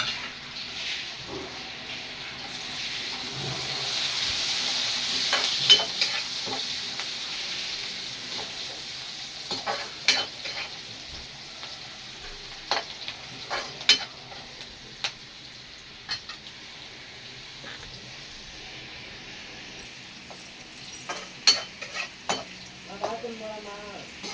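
Onions frying in a pan with salt and curry leaves, giving a steady close sizzle that fades to a softer hiss, broken by scattered clicks and taps of a stirring spoon over a long stretch, with no talk.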